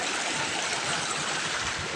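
A small forest stream flowing in the woods, a steady close rush and trickle of water with no pauses, moderately quiet and heard alone.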